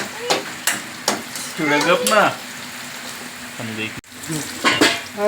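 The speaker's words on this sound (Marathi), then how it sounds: "हे बघा भाजत आलाय कांदा आपला लालसर" Onion fries in a pan with a soft, steady sizzle, broken by intermittent stirring scrapes and clinks, while someone talks over it.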